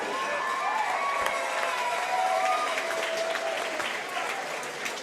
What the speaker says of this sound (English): let's give both these fighters a big round of applause, if you will